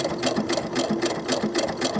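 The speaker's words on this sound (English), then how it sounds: "my machine's going to want to pull, these feed dogs are going to want to pull that narrow piece down" Sewing machine stitching fabric for doll clothes, a fast steady mechanical chatter with rhythmic pulses about four times a second, close and continuous, with no talking.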